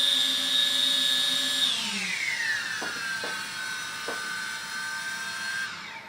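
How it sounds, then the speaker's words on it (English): A 200-size mini quadcopter with a CC3D controller running its motors during a failsafe test, a high whine that drops in pitch as the motors slow and then cuts off, near and alone, with a few light clicks. "You heard the motor slow down and then turn off."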